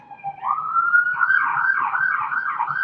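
An emergency vehicle siren, police or ambulance, wails steadily, rising and falling in a repeating pattern, moderately loud and alone.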